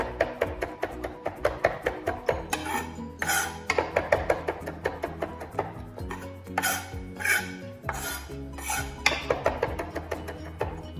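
Knife chopping on a cutting board while preparing spaghetti bolognese: a dense run of quick, close, rhythmic knocks and clinks of blade on board.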